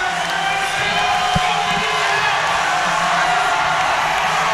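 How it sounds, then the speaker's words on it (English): At a men's college volleyball match between Hawaii and BYU, an arena crowd keeps up a loud, dense roar of cheering and whooping throughout, with a commentator's voice faintly mixed in. "the crowd is back"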